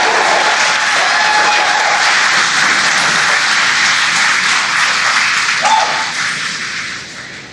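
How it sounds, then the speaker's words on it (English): A crowd cheers during a SpaceX Falcon 9 launch at stage separation, a dense, steady wash of voices and applause heard at a distance that holds level and then slowly fades toward the end. "as you can hear the cheering in the background"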